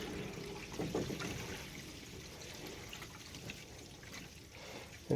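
Water runs backward through household plumbing on Dog Island, a faint, uneven trickle and gurgle that swells and fades, with a brief louder splash at the end.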